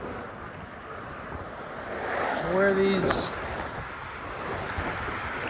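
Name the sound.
wind on the Golden Gate Bridge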